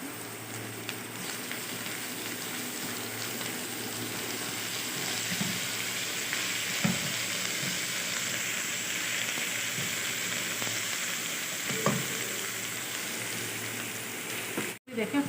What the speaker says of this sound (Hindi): देखें फ्राई हो गया, प्याज भी कलर चेंज हो गया।